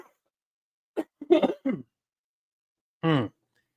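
A person coughs and clears their throat indoors, a few short close bursts separated by silence, ending with a single harsher cough.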